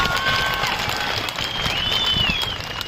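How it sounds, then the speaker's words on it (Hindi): A crowd at a public meeting in Kishtwar applauds for Sheetal, an Arjuna Award winner, with dense, steady clapping that holds at a fairly loud level for the full stretch. No one is speaking over it. "आप सभी शीतल के लिए जोर से ताली बजाइए एक बार जरा"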